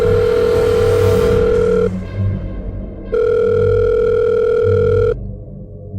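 A hotel room telephone rings in two long, loud electronic bursts separated by a pause, alone with no voices.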